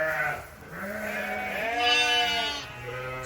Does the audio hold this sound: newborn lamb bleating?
yes